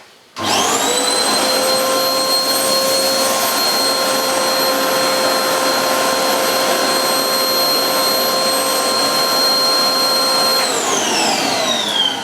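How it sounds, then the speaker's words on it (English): Hoover Blaze bagless cylinder vacuum cleaner fitted with its parquet nozzle, running steadily and loudly for about ten seconds with a whining motor tone, then powering down with a falling pitch at the end. "Let's see if the parquet nozzle does any better."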